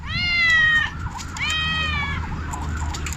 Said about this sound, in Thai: แมวมาแล้วแมวมา